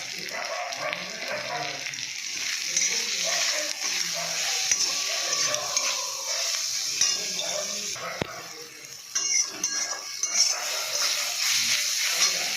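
Turmeric, chili and cumin powders frying in a pan with salt: a soft, steady sizzle and hiss with occasional light stirring clinks, close by and fairly even in level across the whole stretch.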